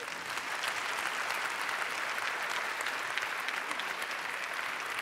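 Audience applause at a televised Picardy talent show celebrating France 3 Picardie's 50th anniversary, greeting performers Émilie, Anne and Charlotte; steady dense clapping throughout, fairly distant and even in level.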